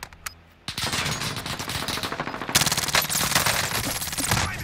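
Rapid automatic gunfire from the video game Warzone, loud, close bursts after a brief quieter start, then sustained rattling volleys with a few sharper shots.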